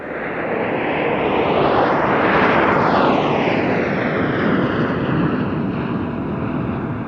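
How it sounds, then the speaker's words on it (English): Eight Alpha Jets of the French national aerobatic team Patrouille de France fly an aerobatic display at the IWM Duxford Battle of Britain Airshow 2010. A loud, continuous jet roar swells to a peak mid-pass and then recedes with a falling pitch. "the show was in fact closed on Saturday by the French national aerobatic team La Patrouille de France with their 8 Alpha jets"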